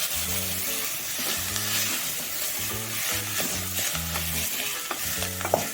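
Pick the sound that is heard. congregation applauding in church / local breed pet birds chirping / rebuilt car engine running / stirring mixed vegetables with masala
stirring mixed vegetables with masala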